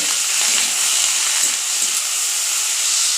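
Beetroot and carrots sizzle in a hot pan with onions, a steady loud frying hiss that stays constant and close throughout, with no talk over it.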